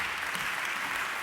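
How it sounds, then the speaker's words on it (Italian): A brief burst of steady audience applause at an evening assembly event in Vicenza, dense even clapping throughout with no talking. "Prego, un applauso"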